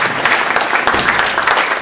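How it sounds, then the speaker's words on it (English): An audience at a city meeting gives a round of applause, many hands clapping in a dense, even burst that stays loud for nearly two seconds. "So let's give him one more round of applause."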